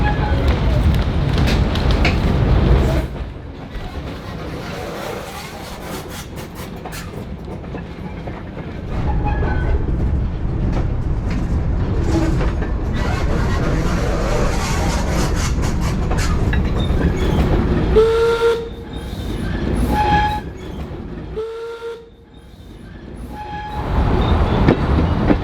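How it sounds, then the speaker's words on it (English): A steam train runs at the Valley Heights Railway Museum, its steady rumble and rolling clatter filling the recording, with two short tonal horn or whistle blasts near the end and voices talking over parts of it. "Steve-O the steam train."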